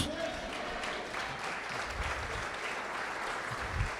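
Congregation applauding in a church during a Spanish-language sermon, a steady wash of clapping lasting throughout at moderate level, with faint voices mixed underneath.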